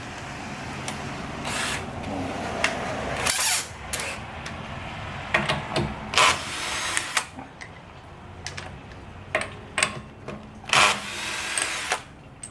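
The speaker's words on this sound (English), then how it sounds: "And then I just use my drill with the correct socket to pull the nuts off." A power drill fitted with a socket removing lug nuts from a Kia Soul wheel, with several short loud whirring bursts separated by pauses and quieter handling noise, no talking.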